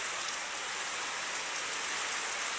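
Steady rain falls at a workplace, a dense even hiss of drops holding level throughout with no voices.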